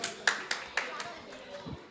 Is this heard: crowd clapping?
yes